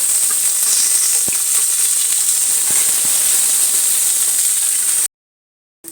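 Constant bright hiss of onions, green chilies and curry leaves sizzling in hot oil, with a few faint clicks, then sudden silence near the end.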